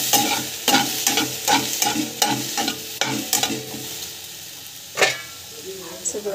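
Chutney ingredients sautéing in a pan, with repeated stirring scrapes and light sizzling in a quick rhythm, close and fairly quiet.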